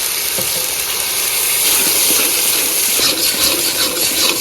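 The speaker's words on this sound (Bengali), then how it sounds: "এখন দিয়ে দেবো পেঁয়াজের পেস্ট আদা রসুন জিরে শুকনো লঙ্কা বাটা দিয়ে দেবো" Onion, ginger, garlic, cumin and dried chilli paste frying loudly in a hot pan, a steady dense hiss and sizzle close by, without speech.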